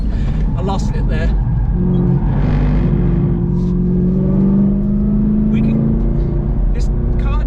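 Camaro ZL1 1LE engine on a race track, a steady loud engine drone that rises in pitch as the throttle is opened mid-corner, with a person talking over it throughout.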